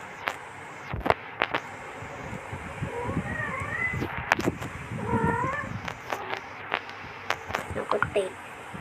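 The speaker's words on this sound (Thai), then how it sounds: "อย่ากัดกัน แมวผมกัดชอบกัดกันแบบนี้แหละ" Cats fighting and meowing indoors, with several short yowls and rising cries over a few seconds, mixed with scuffling and soft wind-like noise; someone talks throughout.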